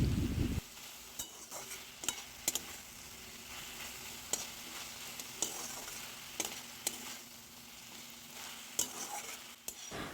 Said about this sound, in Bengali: আবার শাকটাকে ভালো করে নেড়েচেড়ে ভেজে নিতে হবে